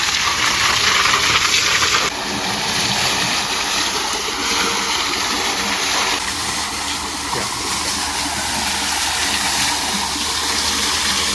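Water gushing with great force from the outlet pipe of a pump set on an Indian farm, a loud, continuous rushing hiss that holds steady and close for the whole stretch.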